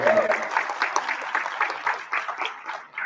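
Audience applause at a conference, sustained clapping from a seated crowd throughout, fairly close and steady with individual claps audible.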